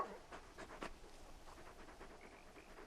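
Torgal, a large dog in the video game Final Fantasy XVI, pants softly in quick breathy puffs. The sound is faint and close, with a few small rustles and a brief whimper.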